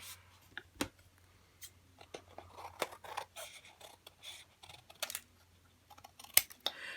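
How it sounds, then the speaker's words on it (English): Scissors snipping off excess paper during a crafting project, a series of short crisp cuts at uneven intervals, close and quiet, with faint handling rustles between them and no speech. "So I'm just going to cut this excess off."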